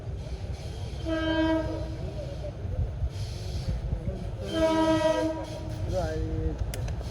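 A small meter gauge train rumbles steadily past nearby while its horn sounds twice in long, loud blasts, the second rising slightly before it trails off.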